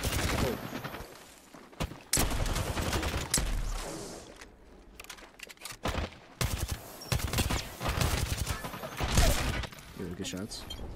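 Rapid bursts of video game gunfire crackle through a 1v1 duel, repeated volleys and single shots in quick succession, loud and close, with someone talking over parts of the exchange.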